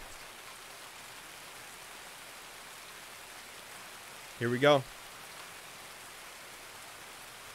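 Steady, soft rain hiss in the video game Escape from Tarkov during a night raid, running throughout, with a brief spoken phrase breaking in near the middle.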